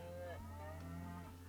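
A single cow in the farming game Farm Manager World gives one low, drawn-out moo, short and clear with no talk over it.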